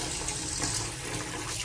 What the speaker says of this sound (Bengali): কড়াইটা একটু ধুয়ে নিতে হবে